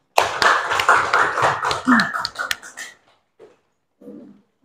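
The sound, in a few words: children clapping hands in a classroom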